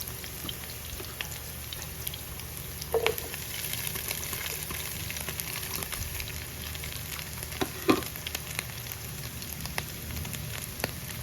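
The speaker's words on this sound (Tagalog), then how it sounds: "Habang fry po natin yung chicken, lalagyan na natin siya ng onting toyo." Chicken sizzles steadily in a hot pan, a close, even crackle and hiss throughout with a few louder pops and clinks of stirring, and nobody speaks.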